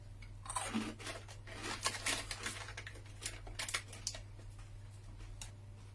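A shrimp-flavoured Japanese arare rice cracker is crunched and chewed close up, a quiet run of sharp irregular crackles over a low steady hum.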